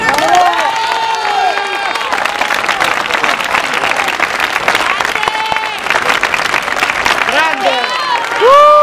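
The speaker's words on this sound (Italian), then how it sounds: "Aspettiamo Stefano che salga sul palco con un applauso" Crowd at a rally in Pescara applauds and cheers as a speaker takes the stage, steady clapping under shouting and amplified voices that rise and fall throughout.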